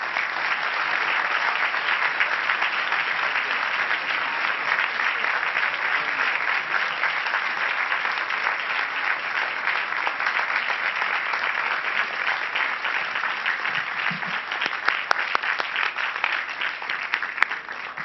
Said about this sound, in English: I'd like another round of applause